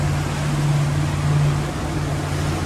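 Steady drone of a boat engine idling smoothly at around 2200 RPM on the water, a constant low hum with a strong tonal note that holds evenly throughout with no talk.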